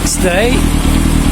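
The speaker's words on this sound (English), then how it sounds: "and we run the motorcycle" A restored Yamaha FZR 1000 EXUP motorcycle engine runs with a steady mid-pitched drone beneath a man's brief spoken words.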